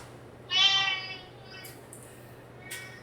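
A single house cat gives one clear, fairly close meow that rises and fades over about half a second, over a low steady hum in an indoor room, followed by a couple of faint clicks.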